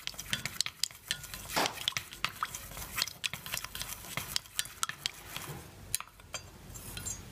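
Spoon stirring a liquid mixture with added fragrance oil in a container while making meltable scented stone, giving a run of close, irregular scraping clinks and taps with no talking.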